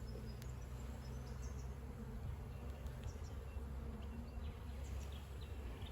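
Honeybees at an open hive during a spring inspection in Australia, giving a steady, close, continuous buzzing hum that holds even throughout, with no talking.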